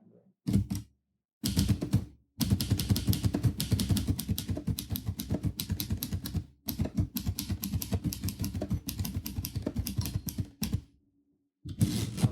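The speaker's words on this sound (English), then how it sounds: "Certain typewriters are really easy to get a musical rhythm to when you use it." A manual typewriter typed on at a quick, rhythmic pace, dense bursts of sharp key strikes and clacks broken by short pauses, close and loud, with no talk over it.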